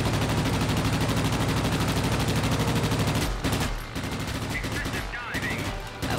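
Aircraft machine guns fire in the World of Warplanes video game as a dense, loud, rapid rattle that runs continuously for about three seconds, then breaks into shorter bursts amid engine noise.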